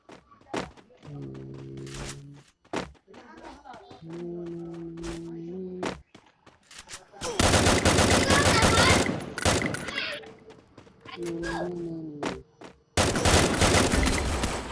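An AN94 rifle firing in Free Fire, heard as several loud bursts of rapid gunfire separated by quieter gaps, with game tones and thuds between the volleys.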